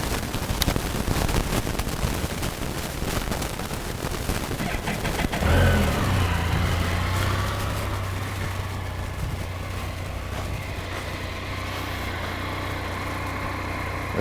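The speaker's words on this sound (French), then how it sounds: "Et là, je vais faire partir le moteur." A 2018 Can-Am Spyder RT three-wheeled motorcycle engine cranks and catches, then settles into a steady low idle with a continuous rumble, close by.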